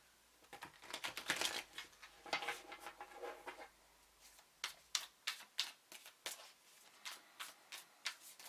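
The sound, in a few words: shuffling tarot cards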